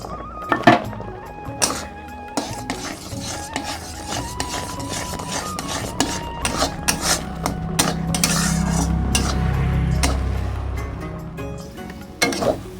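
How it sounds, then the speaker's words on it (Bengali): Semolina is worked into boiling water in a pan to form a soft dough, producing close scraping, rubbing and knocking of a spoon against the pan in irregular bursts, with a low bubbling rumble midway and no speech. "দিয়ে খুব সুন্দর করে একটি সফট ডো তৈরি করে নেব"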